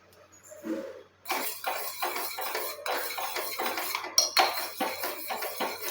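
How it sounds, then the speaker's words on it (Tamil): Aloe vera face cream being stirred in a pan over low heat, a spoon scraping and clinking against the metal in a quick repeated rhythm, close and steady after a short pause. "இதை நீங்கள் இந்த மாதிரி கிளறி கொடுத்துட்டே இருங்க"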